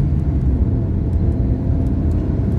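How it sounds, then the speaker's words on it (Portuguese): Chevrolet Astra engine pulling hard as the car accelerates, a loud, continuous low rumble with road noise heard from inside, steady and unbroken. "Olha só como esse carro responde legal"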